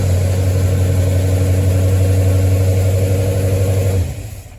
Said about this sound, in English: the engine is starting and running perfectly well